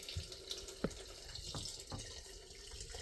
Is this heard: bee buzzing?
no